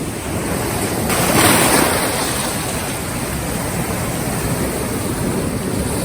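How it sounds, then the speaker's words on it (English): Ocean surf rolls steadily with a broad, continuous wash of breaking waves and a brief swell in loudness near the start, with wind noise on the microphone and no voices. "Just sitting here and listening to the waves"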